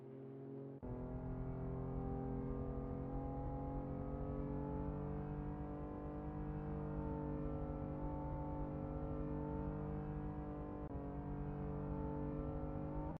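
A sim racing car on its out lap in a video game, the engine kicking in after a brief pause and then droning steadily with slow pitch swells and a dip near the end, loud and continuous.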